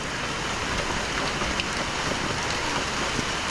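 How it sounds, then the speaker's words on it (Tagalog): Steady, dense rain hissing evenly with faint pattering drops, a constant heavy downpour without talking. "Pauwi na kami dahil lumakas po yung ulan."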